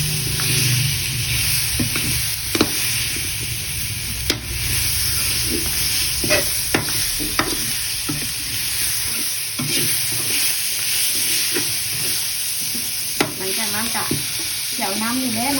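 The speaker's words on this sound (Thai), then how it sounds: "คั่วไปด้วยกันเลยแบบนี้เนาะ" Pork bones being stir-fried in a pan, a close, steady sizzle broken by repeated scraping strokes and clanks of a utensil against the pan at an irregular rhythm, with no talking.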